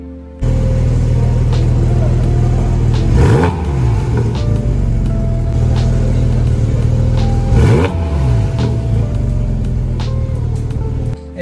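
A Porsche 718 Cayman GT4 RS engine, loud and close, holding a strong steady drone that swells into two sharp revving surges before settling back, with no talk over it.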